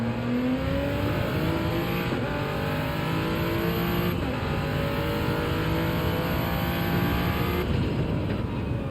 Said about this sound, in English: I don't know about revving first like that